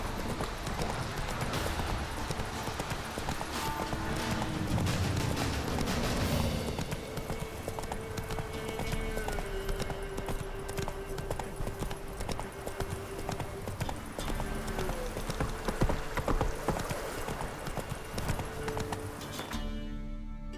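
Hooves of the horse Roach clip-clop steadily at a gallop in the video game The Witcher 3, a continuous rhythmic beat over game music and ambience, with a brief whinny and faint talk underneath.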